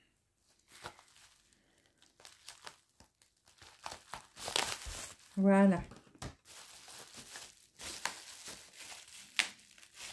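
Plastic packaging crinkles and crackles as it is pulled apart, with a sharp stretch of adhesive tape tearing midway and a brief spoken French word near the end.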